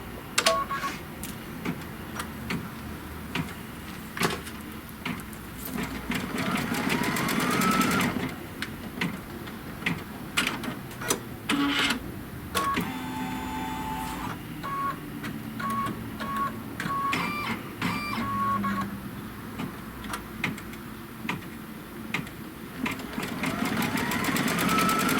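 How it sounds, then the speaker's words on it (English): An embroidery machine stitches a placement line for a hanging ribbon, its needle motor whirring in a steady rapid mechanical rhythm with intermittent clicks and brief beeps, close and moderately loud. "now what it's going to do is stitch a placement line for our ribbon"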